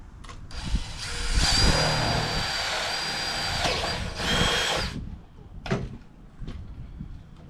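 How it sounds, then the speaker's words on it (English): A power drill bores a hole in a homemade chicken waterer, whining loudly and steadily for about four seconds at close range, followed by a few sharp clunks and handling knocks. "So I'm gonna go ahead and drill a hole in there, thread this thing in"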